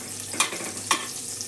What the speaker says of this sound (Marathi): तेल टाकल्यावरती हे बटर टाकते. बटर चांगलं हलवून घ्यायचं.